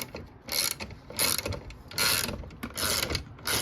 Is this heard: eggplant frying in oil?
no